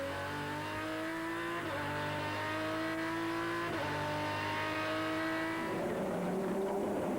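Onboard race car engine from a 2001 Super Racing Weekend round at Zolder, with the throttle easing open as revs climb steadily through several gear changes. The engine note is loud, close and continuous, with no talk.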